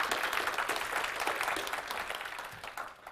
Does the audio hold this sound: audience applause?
yes